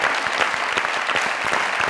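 Loud, dense applause from a studio audience on a Pakistani comedy talk show, a thick continuous wash of many hands clapping close and steady with no voices over it.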